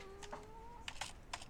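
Computer keyboard keys tapped in a short, quiet burst of a few irregular clicks, with a faint whistling tone in the background.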